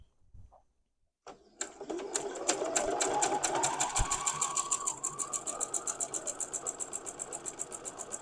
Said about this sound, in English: now I'm going to take this out and stitch along the other side of that line.